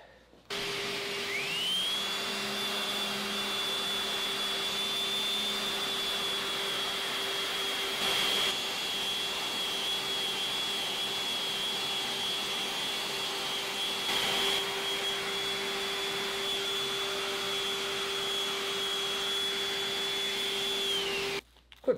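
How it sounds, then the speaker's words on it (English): An electric sander runs continuously for about twenty seconds while sanding a cherry wood spurtle with fine grit paper. It starts up and winds down with a steady high-pitched whine over a rushing hum, close and loud, with no voices. "Just hit the rest of this with the sander, clean it up the rest of the way with a little 120 grit, followed by 150 grit, 220"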